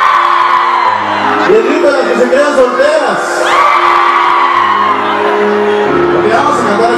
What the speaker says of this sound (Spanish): el grito de las que se quedan solteras